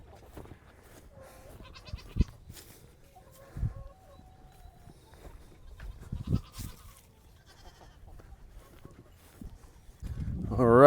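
Goats kept in a backyard chicken setup bleat in scattered short calls, quiet to moderate, amid soft outdoor rustling and movement, with a louder burst of noise at the end.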